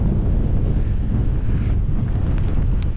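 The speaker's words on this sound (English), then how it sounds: "Oh man, that wind is just horrible." Strong, freezing wind buffets an outdoor wild camp near a shelter, roaring steadily and loudly right against the microphone with deep rumbling gusts and no speech.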